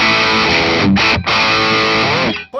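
A 2002 Gibson Custom Shop non-reverse Firebird electric guitar rings out loud with distortion, sustained chords broken by two brief dips before fading near the end.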